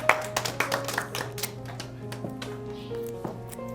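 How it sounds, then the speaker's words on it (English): Students in a classroom clapping for three boys, a short burst of scattered hand claps that thins out into a few sparse taps, fairly close and moderately quiet. "Let's clap for our three boys."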